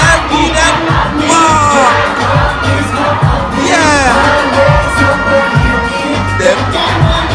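A large, loud school crowd at a youth concert cheers, whoops and yells continuously, with a performer's voice heard over the noise.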